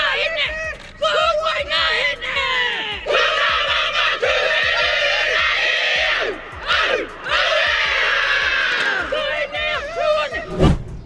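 A woman athlete screams during a sports match, loud and sustained in repeated bursts, with crowd noise and shouting mixed underneath.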